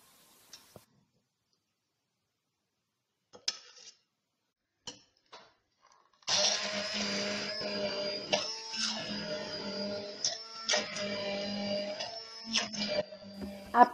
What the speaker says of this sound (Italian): li metto in un tritatutto o un mixer e li trito finemente